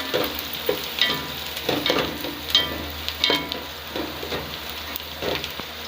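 Onions turning light brown fry with cumin, bay leaf, cloves and black pepper for a beef pulao, giving a constant close sizzle with rhythmic stirring scrapes and crackles.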